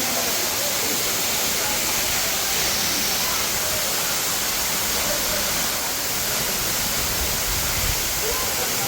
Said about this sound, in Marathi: हा असा हा डोंगर आहे आणि इथून हे वरून पाणी पडत आहे